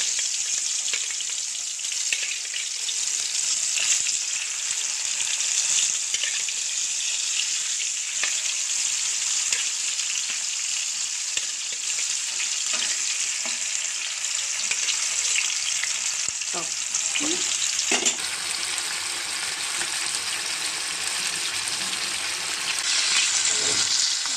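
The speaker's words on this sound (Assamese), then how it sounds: "মাছখিনি ফ্ৰাই কৰিম এটা এটা কৰি। তেল গৰমেই হৈ আছিলে, মই মিঠাতেলত কৰিছোঁ।" Small fish frying in hot mustard oil, a loud, steady, close sizzle that crackles continuously throughout with occasional stirring and scraping sounds, no talking.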